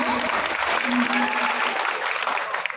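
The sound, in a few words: audience applause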